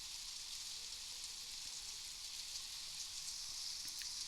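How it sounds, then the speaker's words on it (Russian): Light rain falls steadily at a riverside fishing spot, a soft continuous patter and hiss that runs evenly throughout with no voices. "Идет такой дождик."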